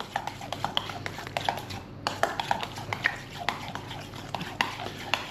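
A spoon stirs Dijon mustard into potato salad in a bowl, making a run of quick clinks and scrapes against the sides at an irregular pace, close and clear, with a brief pause partway through.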